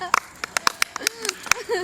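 A handful of sharp, close hand claps in quick irregular succession, interspersed with someone talking in a lively, comic exchange.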